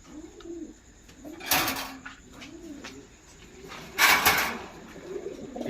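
Lahore pigeons, a newly paired couple, coo in low, throaty rolling calls close by, with a couple of louder clattering knocks breaking in.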